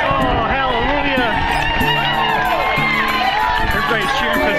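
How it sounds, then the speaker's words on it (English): Spectators along the Boston Marathon course cheer and shout in a dense, loud crowd roar, with whoops and overlapping voices close by throughout. "Everybody's cheering because there's one cloud on the course."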